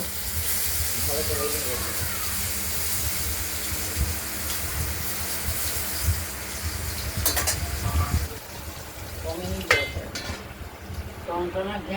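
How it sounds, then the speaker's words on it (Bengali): Potatoes fry in oil for a pabda fish and potato dish, producing a steady, moderate hiss and sizzle with occasional clatter and stirring knocks. "আলুগুলোকে আমরা ভেজে নেব।"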